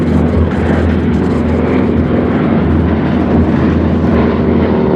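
A Tora propeller plane flies past at the Habsheim airshow, its loud, steady engine drone filling the scene without a break.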